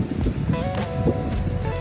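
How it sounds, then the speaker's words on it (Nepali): The Roshi river in Nepal rushes past in a steady, loud roar of flowing water, with wind buffeting the microphone throughout and no voices. "रोसी खोला यसरी बगिरहेको छ"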